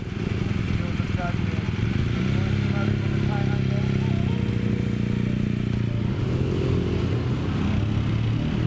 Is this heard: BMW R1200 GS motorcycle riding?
yes